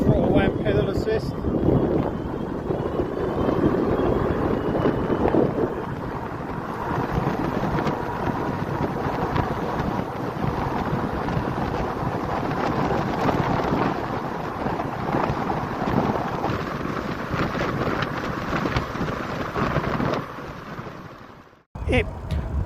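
Engwe M20 e-bike speeding up on throttle and pedal assist over flat off-road ground, a steady loud wind-buffeted rush with rolling road noise that holds for about twenty seconds before a brief dropout near the end.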